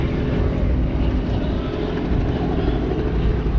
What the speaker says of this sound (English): Helicopter going overhead up there.